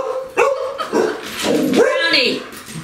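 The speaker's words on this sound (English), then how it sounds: "There's a dog that's here, Brownie." A dog named in a home setting gives yips, whimpers and short barks at close range, loud and uneven, mixed with a person talking over it.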